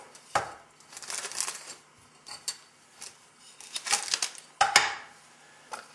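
A camping cooking set of nested metal pots is handled at close range, with scattered clinks, taps and scrapes arriving in irregular bursts between quiet moments. There is no talk.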